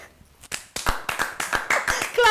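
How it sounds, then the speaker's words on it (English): A studio audience on a late-night talk show claps in a short run of distinct, evenly spaced claps, near and fairly loud, ending as a voice begins. "Clapping for me."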